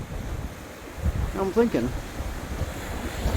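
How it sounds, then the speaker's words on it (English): Waves crash against rocks along a rough coastline, with steady wind buffeting the microphone and someone speaking briefly over the surf. "definitely gets the old blood pumping when you got a few waves bashing up against the rocks"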